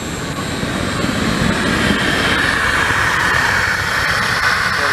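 A Predator 8750 inverter generator engine running on woodgas gives a steady, loud droning roar that holds unbroken throughout, with no talk over it.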